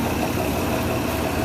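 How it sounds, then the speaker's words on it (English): Engines of a 2006 Sea Ray 440 Sundancer boat idling, a low, even rumble with steady vibration, close and unbroken, no voices. "these engines are running"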